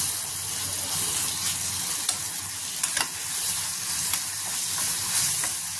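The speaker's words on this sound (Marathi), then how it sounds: "अद्रक लसूण पेस्ट टाकायची आणि छान भाजून घ्यायचे अद्रक लसूण पेस्ट पण" Ginger garlic paste fries with tomatoes in a pan, a soft steady sizzle under repeated spoon stirs and occasional sharp clicks against the metal.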